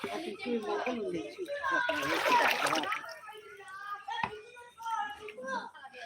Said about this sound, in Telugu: ఇప్పుడు ఈ వాటర్ అంతటినీ కూడా నేను మన మొక్కలకి ఏవైతే నేను ఒక చిన్న మొక్క నుంచి పెద్ద మొక్క వరకు పెంచుతున్నాను అన్ని మొక్కలకి ఇచ్చేయడం జరుగుతుంది